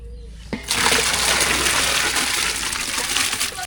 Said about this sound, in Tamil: நல்லா கொதிக்குது உலை சாம்பாருக்கு தண்ணி நல்லா சூடாகிடுச்சு